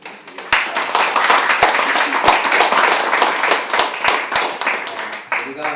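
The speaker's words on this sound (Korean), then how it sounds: "감사하는 마음으로 우리 박수를 드리겠습니다." A church congregation claps together in thanks, a dense, fairly loud spread of overlapping hand claps that holds steady for several seconds with a few sharper individual claps, with talk mixed in.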